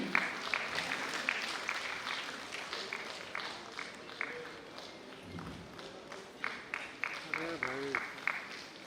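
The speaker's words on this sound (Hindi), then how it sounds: "इसलिए जोरदार तालियां बजती रहे" Applause at a community program in Ranchi, Jharkhand, sounds fairly faint and uneven, with scattered claps and voices talking over it.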